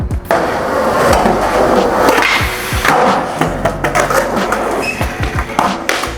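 Skateboard wheels rolling and clacking on concrete with several sharp board slaps and thuds as a trick is landed, close and loud, repeated impacts over steady rolling noise.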